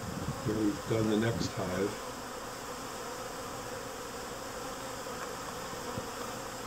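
Honey bees hum around a newly installed package in an Apimaye hive, a steady close buzz running throughout while a person speaks briefly at the start.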